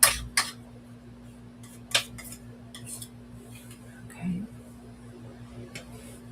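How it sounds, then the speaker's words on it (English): A spoon stirs a mixture in a container. A few bright clinks against the sides come early, followed by quieter scraping and tapping over a steady low hum. "stir it up so make sure it won't separate"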